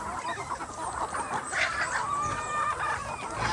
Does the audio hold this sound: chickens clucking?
yes